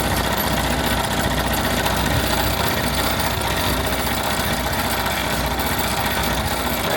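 An embroidery machine stitching out a design gives a steady, rapid mechanical chatter and hum, continuous and fairly close, with no talking.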